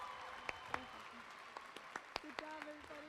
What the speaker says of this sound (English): Let's give them a big round of applause to our valedictorian,